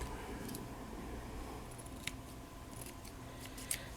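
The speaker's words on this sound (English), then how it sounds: "think my scissors need sharpening." Dull scissors snip through lace while craft flowers are made, a few sharp, separate cuts standing out against a quiet room.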